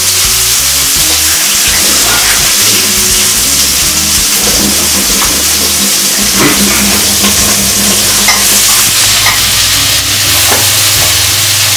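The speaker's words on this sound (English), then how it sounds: "keep stirring it, you don't want it to burn" Meatballs fry in tomato sauce while being stirred, a loud, dense and constant sizzle with a low rumble beneath, and nobody speaks.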